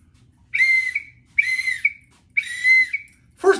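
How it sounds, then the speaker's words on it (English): A small safety whistle carried on a bikepacking bike gives three sharp, shrill blasts, evenly spaced and close, with the start of a fourth cut off at the end. "So I carry a whistle."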